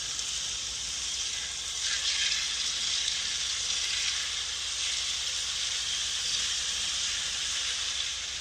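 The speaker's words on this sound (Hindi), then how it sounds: "तो अब जलेबियों का शीरा तेल में शामिल करेंगे।" Jalebi batter fries in hot oil with a steady, dense sizzle that holds evenly throughout, close and fairly loud with no voices.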